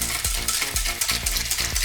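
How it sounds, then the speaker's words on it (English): A whisk stirs milk into a mocha chocolate ice cream base in a bowl, scraping in a quick regular rhythm of about two strokes per second, close and clear, with no voices. "Make sure you stir this around really good with your whisk"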